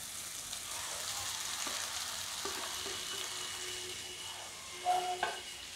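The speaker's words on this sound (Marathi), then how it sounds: "आता आपल्याला ह्या भेंड्या भाजलेल्या घालायच्या आहे" Pan-fried okra tipped into sizzling masala in a pan for bhendi fry, giving a steady close frying hiss with a few soft stirring knocks and a brief clatter near the end.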